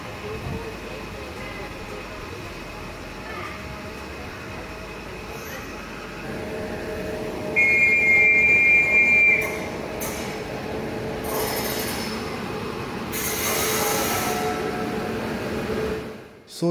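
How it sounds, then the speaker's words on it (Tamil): A Lokmanya Tilak Terminus–Karaikal Express train rolls into a station with a rising mechanical rumble and clatter, a brief high squeal of brakes partway through, and hissing bursts near the end. "அங்கே ட்ரெயினும் வந்துட்டுருக்கு பாருங்கள்."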